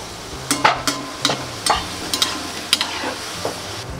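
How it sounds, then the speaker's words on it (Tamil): Cut pieces being fried in hot oil in a home kitchen, with a series of sharp stirring and scraping clicks spread over a steady background sizzle, close and moderately loud, without speech. "அதை வந்து எண்ணெயில் போட்டு பொறிச்சு எடுத்துக்கலாம்."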